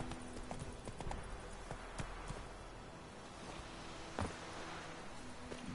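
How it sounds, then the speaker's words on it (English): Horse galloping across the countryside in the video game The Witcher 3: Wild Hunt, a steady, moderately faint rhythmic clip-clop of hooves with light background ambience and no speech. "Go, Roach. Gallop through the countryside."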